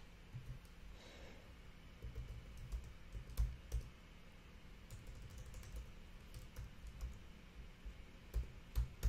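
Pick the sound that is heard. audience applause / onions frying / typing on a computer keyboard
typing on a computer keyboard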